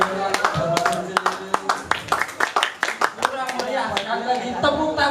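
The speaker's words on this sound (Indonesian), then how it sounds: "Tepuk tangan dong untuk apa yang disampaikan oleh Mas Uji." An audience claps at a theatre group's 33rd anniversary event, a crowd of sharp, uneven claps that build and fade while a voice keeps talking over them.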